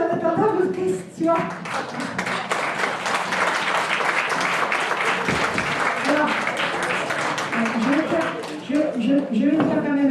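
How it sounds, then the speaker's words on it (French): Audience applause at a municipal campaign meeting, a steady crowd of hands clapping for several seconds, with a voice speaking briefly at the start and again near the end. "On va vous applaudir en attendant vos questions."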